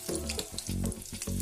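Stuffed paneer pakoras frying in hot oil over a lowered flame: a close, steady crackling sizzle with small pulsing bubbles, with no talk.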